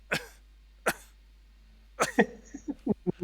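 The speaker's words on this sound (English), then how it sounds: "I have a dry cough." Two short, isolated dry coughs with a pause between them, then a quicker run of hacking coughs close up.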